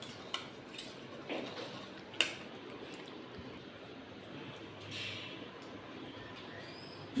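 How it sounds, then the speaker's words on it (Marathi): A spoon stirs turmeric and salt in a kadhai while kadhi bhaji is cooked, making a few faint metallic clinks and scrapes, sharpest near the start, over quiet kitchen background. "ते आपण हलवून घेणार आहोत"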